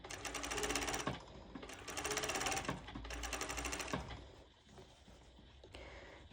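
A sewing machine zigzag stitches a seam on a sporty cut-out top, with rapid rattling bursts in several runs separated by brief pauses, close and clear.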